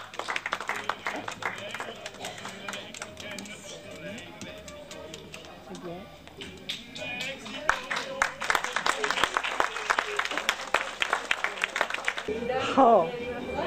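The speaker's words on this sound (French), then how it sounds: "on applaudit bien fort" Scattered clapping swells into steady applause from a small audience at a 2005 fashion show in La Puisaye, with voices murmuring underneath and a brief spoken exclamation near the end.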